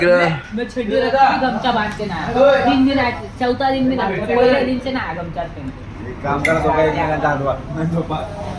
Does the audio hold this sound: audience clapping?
no